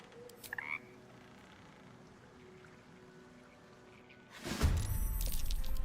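A creature croaking in the Baldur's Gate 3 video game, a few faint croaks early on over a quiet ambient bed, then a louder burst of rough sound near the end.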